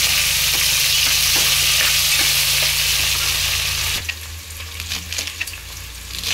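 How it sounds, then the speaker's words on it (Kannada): Chopped vegetables hit a pan of hot oil with a loud, continuous sizzle and steady stirring; a low hum runs underneath, then drops away as the frying grows softer and more intermittent. "ನೆಕ್ಸ್ಟ್ ಎಲ್ಲ ತರಕಾರಿಗಳನ್ನ ಒಂದೊಂದೇ ಆಗಿ ಹೆಚ್ಚಿ ನಾನು ಇದಕ್ಕೆ ಫ್ರೈಗೆ ಹಾಕ್ತೀನಿ"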